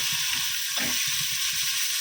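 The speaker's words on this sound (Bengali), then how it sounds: "তো উচ্ছে ভাজাটা হয়ে যাক" Bitter gourd frying in oil in a pan makes a constant bright hiss and crackle close by, with a brief stirring rustle in the middle.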